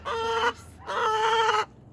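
A chicken close by gives two drawn-out, squawking clucks in quick succession, loud and clear against a quiet background.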